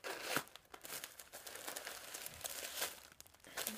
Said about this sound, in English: So sorry for the crinkling now, ladies.